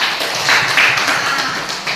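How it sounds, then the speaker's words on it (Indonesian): A classroom of students claps for a classmate, a dense, steady patter of hand claps filling the whole moment at moderate loudness, with no talking over it. "Tepuk tangan untuk Zahira."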